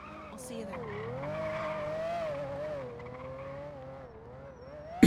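Car engine in the NoPixel GTA roleplay game, a steady revving drone with tire skids, under continuous talking.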